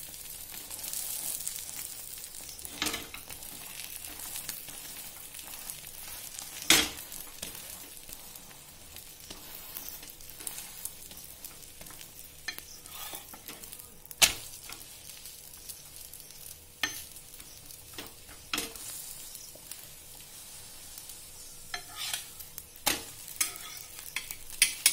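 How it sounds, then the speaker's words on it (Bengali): A paratha fries in a pan for a chicken roll, giving a steady soft sizzle broken by sharp scraping and clinking strokes as it is stirred, with no one speaking. "এই সময়টাই আমরা ভালো করে পরোটাটাও একটু ভেজে নেব"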